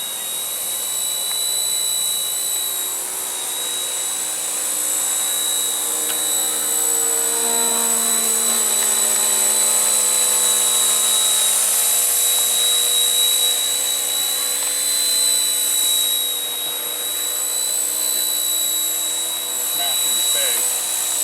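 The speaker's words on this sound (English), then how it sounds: "it's a super stable, easy to fly helicopter" An RTR Hobby Jet Ranger radio-controlled helicopter flies close by, its electric motor and rotor giving a steady, loud, high-pitched whine that rises and falls slightly for over twenty seconds.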